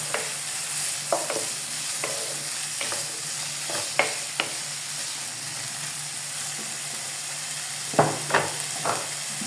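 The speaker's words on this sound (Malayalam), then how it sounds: "നന്നായിട്ട് ഇളക്കി കൊടുക്കണം" Samosa filling is stirred in a hot pan with steady frying sizzle, broken by several sharp scrapes and taps of the spoon against the pan, close and clear with no talking.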